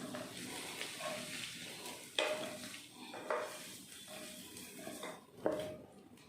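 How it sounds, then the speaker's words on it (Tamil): Sautéed onions being stirred into semiya uthappam batter, with a wet, squelching scrape of a spoon against a bowl repeating in an uneven rhythm and a few sharper clinks of metal on the rim, close and fairly quiet. "நல்லா கலந்து விட்டுடலாம்"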